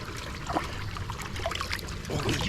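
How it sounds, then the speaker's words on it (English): Cold water trickles and splashes onto a dog's back outdoors, a soft, continuous pouring sound close by with a few louder splashes. "Just putting some water on his back."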